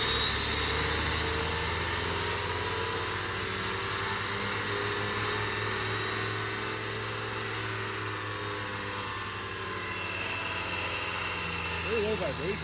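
A 10-inch Tesla turbine runs at full throttle on compressed air and gives a loud, steady, high-pitched whine. The tone rises slightly and then holds over a rushing air hiss and a low hum.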